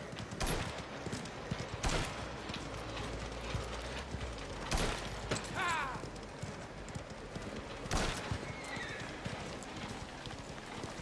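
Horse hooves from a video game clip-clop in an uneven rhythm at moderate level, mixed with mechanical clanking and a brief whinny, while someone talks in French over the gameplay.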